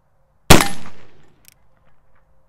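One loud, close blast from an engraved 1851 Navy .44 cap-and-ball revolver fired at a target about 15 yards off, ringing out for most of a second, followed by a faint distant ping.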